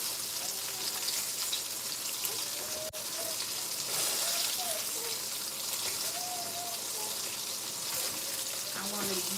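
Pork chops fry in hot oil with a steady, dense crackling sizzle throughout, close and constant, while voices talk faintly underneath.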